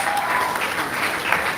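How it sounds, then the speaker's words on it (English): An audience at a health information management professionals' celebration gives a round of applause, a steady wash of clapping from many hands in a reverberant hall, moderately loud and brief. "Please give me a round of applause."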